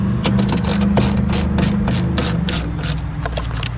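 A ratchet clicks in quick repeated bursts while tightening the mirror bolts on a Ford F150 during a tow mirror install, close and loud over a steady engine-like hum.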